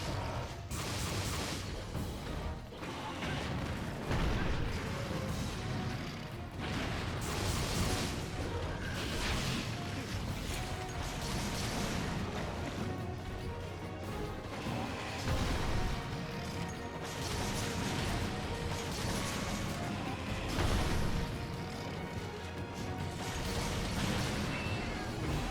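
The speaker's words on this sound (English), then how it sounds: "the explosions only seem to go off his attacks once he has, like, the red slime color to them" Brachydios explosions and combat in Monster Hunter Generations Ultimate make dense, loud, continuous booms, crashes and whooshes, with a rumbling low end and repeated bursts throughout.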